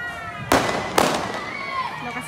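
Homemade Cuban fireworks go off outdoors on New Year's Eve in Cuba: two sharp, loud bangs about half a second apart over a constant crackling, noisy street background. Voices can be heard nearby.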